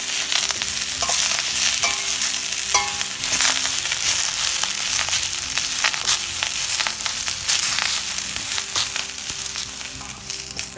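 Curry leaves fry in a pan, a steady close crackling sizzle with scraping stirs and small pops running throughout, no voices.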